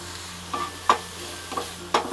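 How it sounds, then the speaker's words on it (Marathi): A spoon stirs and scrapes a modak filling of almonds, cashews, pistachios and raisins as it roasts in a pan, with a low steady sizzle and a few soft scraping clicks, no voices. "आता हे सगळं ना चांगलं भाजून घ्यायचं"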